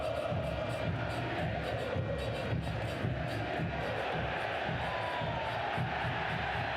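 Stadium crowd at a Concacaf League football match between Real CD España and CS Herediano, a dense steady roar of cheering voices with scattered whoops, holding loud and unbroken throughout.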